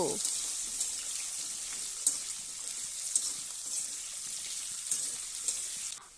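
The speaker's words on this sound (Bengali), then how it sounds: "আলুগুলো একটু নাড়াচাড়া করে" Potatoes fry in hot oil tempered with black cumin seeds, giving a continuous bright sizzle with occasional soft knocks as they are stirred, fairly close and with no talking over it.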